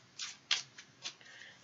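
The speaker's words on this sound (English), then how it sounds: "let's just shuffle these cards" Quiet riffling card shuffles, a few brief papery bursts in quick succession with short gaps between them, close by.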